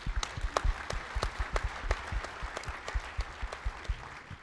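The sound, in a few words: audience applause for the AG's office staff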